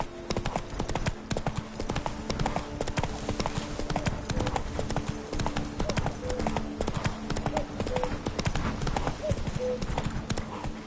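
Roach the horse walking in a video game, steady rapid hoof clip-clops on hard ground, close and continuous, with a voice speaking over it.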